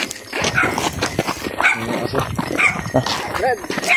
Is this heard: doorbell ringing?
no